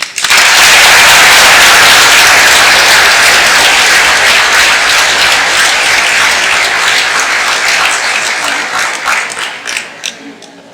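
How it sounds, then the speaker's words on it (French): Loud, close applause from a conference audience in Saint-Quentin, a dense wall of clapping that holds steady, then thins into scattered individual claps before fading out. "mesdames et messieurs, de les applaudir."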